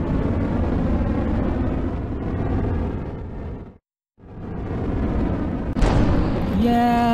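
Steady broadband roar of a simulated rocket engine during a manual landing attempt, cutting out briefly to silence, then resuming with a rising tonal whine near the end.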